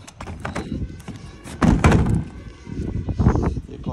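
Bricks are set down one after another on a mesh outdoors, giving heavy, irregular thuds and knocks. Rustling and handling noise fill the gaps, and the thumps are close and fairly loud.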